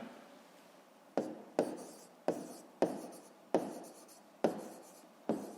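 Pen on paper writing numbers for a fifth-grade maths exercise, with repeated short scratchy strokes at an irregular rhythm, each starting sharply and fading, close and soft.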